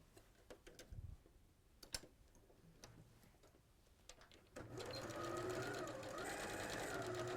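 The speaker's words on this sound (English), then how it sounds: "so now we're going to sew down one side" Sewing machine stitching one side of a quarter-square triangle quilt block, starting after scattered handling clicks and running steadily as a loud, continuous whirring buzz for the last few seconds.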